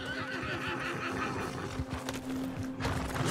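Horse in the video game Red Dead Redemption 2 gives a close, shrill whinny over soft hoof clip-clops and faint game ambience, with no talking.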